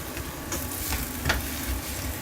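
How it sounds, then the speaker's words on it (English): Clams sauté in a pan for a pasta dish, giving a steady close sizzle with faint stirring scrapes mixed in. "You just let this saute for a few minutes."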